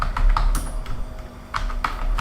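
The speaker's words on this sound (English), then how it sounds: "So I'm just gonna type natural" Short bursts of typing on a computer keyboard, crisp clustered keystrokes with brief pauses between words, close and clear with no talking.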